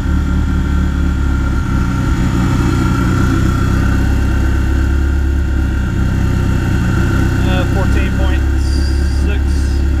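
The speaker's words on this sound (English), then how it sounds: "my fuel pump's a little loud" A loud car fuel pump runs steadily throughout alongside the low, even hum of an idling engine during wideband sensor setup, with brief faint chirps near the end.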